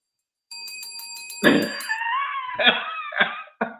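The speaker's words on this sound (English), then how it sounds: "Can I ring the bell some more?" A bell rings about half a dozen quick, bright strokes close by, each tone hanging in the air. Loud voices and laughter then break in over the last ringing.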